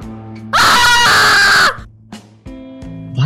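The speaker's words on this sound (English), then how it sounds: "Why the fuck are you screaming?" A loud, close, strained scream of about a second, followed by quieter vocal sounds and a rising cry at the end.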